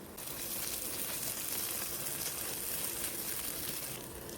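Ginger garlic paste with green chillies and mint sautés in a pan for fish biryani, giving off a steady, fairly quiet hiss and sizzle that lasts the whole stretch without a pause.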